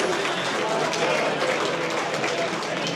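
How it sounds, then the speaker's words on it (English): Audience applause at a solo DJ gig greets a live saxophonist, a dense wash of clapping and crowd noise held steady for the whole stretch, with voices mixed in. "One round of applause for our"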